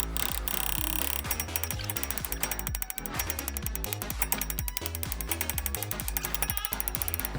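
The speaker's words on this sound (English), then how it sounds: "it did take a bit of effort and some elbow grease with a smaller sledgehammer" Repeated heavy metallic blows from a small sledgehammer driving a strut part loose on a Mini Countryman R60 suspension, landing in a fast, steady, loud rhythm with no talking.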